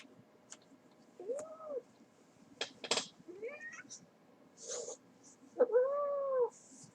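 A cat sitting on a lap meows several times, short rising and falling cries spread through otherwise quiet moments, fairly close and moderately soft.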